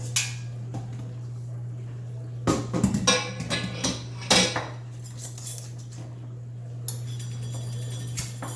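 Beans being put into a cooking pot, a series of clattering rattles and knocks against metal, bunched in short bursts over a steady low hum, with no talk.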